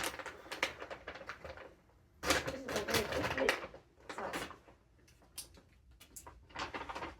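A maple-flavoured snack package is torn and opened up close, with bursts of crinkling, rustling plastic and crackling handling noises, quiet overall, broken by short pauses between the bursts.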